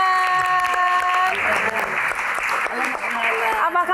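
Audience applause at a Jakarta Q&A event on education, a dense, loud wash of clapping that fills the whole clip, with a sustained musical tone underneath at the start and a voice rising near the end.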